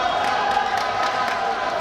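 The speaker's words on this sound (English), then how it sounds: "The crowd now gets in on the act as well" Spectators at a men's national volleyball league playoff match roar and cheer continuously, a dense sustained crowd noise filling the hall with no distinct single voices.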